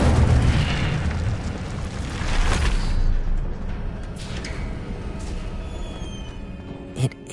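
Roaring burst of magical fire in Hogwarts Legacy, a loud whooshing blast that surges and slowly fades, with a faint thump near the end.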